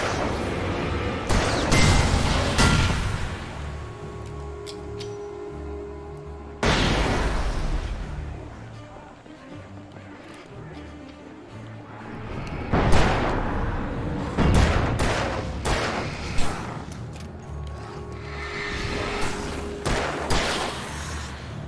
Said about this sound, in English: I think I can use a flashbang here.